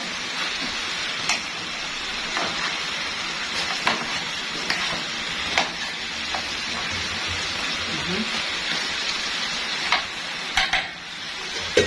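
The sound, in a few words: stirring meat in a pan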